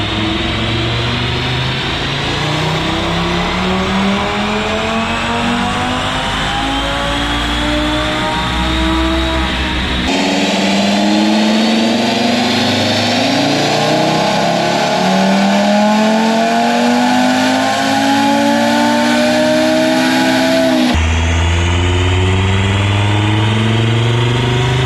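DS1-tuned Audi TT RS with a 4-inch Unitronic inlet roaring on a dyno, loud rising revs through repeated gear pulls, each sweeping up in pitch before dropping, close and continuous with no talking.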